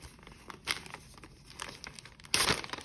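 Cutting open a plastic mail package of craft stickers with a blade, heard as soft crinkles and small scraping noises, then a louder burst of crinkling and tearing toward the end, close by and fairly quiet.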